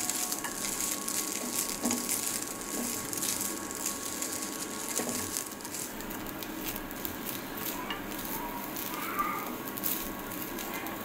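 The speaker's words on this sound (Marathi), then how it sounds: "खोबऱ्याला पण मस्त तुपावर शिजवून घ्यावं।" Grated coconut fries in ghee with a steady, close crackling sizzle and occasional soft stirring, continuous and even in loudness throughout.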